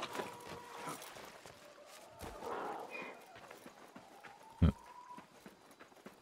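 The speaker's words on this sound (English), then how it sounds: "What is this donkey doing?" Donkey hooves clip-clopping in Assassin's Creed Mirage: light, scattered hoof knocks at middle distance, one sharper thud near the end, with ambient game sound and some background voice.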